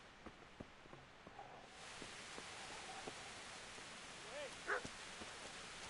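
A dog barks several times in the medieval game Kingdom Come: Deliverance, short sharp yaps spaced irregularly at a middle distance over a low ambient hiss, with a brief faint voice-like sound near the end.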